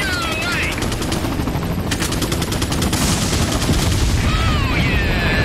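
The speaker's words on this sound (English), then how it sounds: "Shooting." Resident Evil 4 gunfight: rapid bursts of automatic gunfire ring out loudly and repeatedly, one burst close on another, with other game sounds mixed in.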